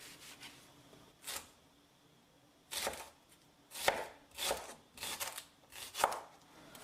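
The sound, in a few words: chopping shallot with knife on board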